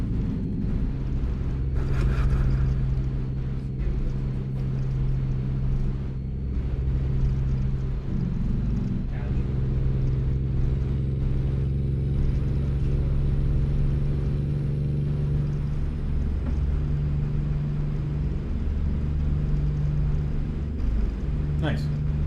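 An Ironworks W900 truck drives in American Truck Simulator with a steady low diesel drone that shifts pitch partway through as it revs, heard under continuous conversation between men.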